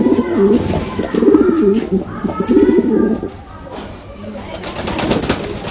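Rampuri pigeons coo in repeated low, throaty phrases close by, with someone talking between and over the calls.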